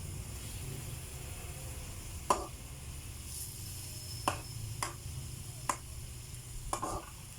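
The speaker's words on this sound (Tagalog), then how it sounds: "Haluin lang po natin." Squid adobo stirred in a pan: a few sharp scrapes and clacks of a utensil against the pan, spaced apart over a low steady cooking hiss, close by with no talk.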